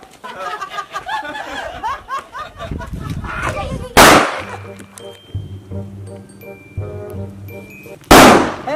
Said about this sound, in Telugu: నువ్వు చిన్న చిన్న బాంబులు కాల్చుకో